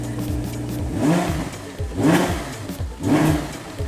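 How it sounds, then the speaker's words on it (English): An Audi R8 Spyder's V10 engine rumbles at a steady idle while the throttle is blipped three times at roughly one-second intervals. Each rev rises into a brief, loud surge and falls away, close by with no talking. "In true supercar fashion, this V10 rumbles like you could only imagine."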